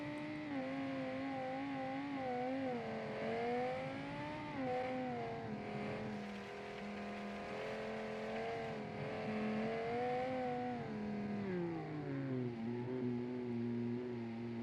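A race truck's engine drones steadily in a racing video game, its pitch rising and falling with gear changes and throttle, then dropping toward the end; continuous and fairly quiet, with no talking.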